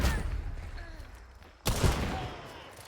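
Gunfire and an explosion in the video game Hunt Showdown: a rumbling tail of earlier shots fades, then a sudden loud blast hits and rolls on, fairly close.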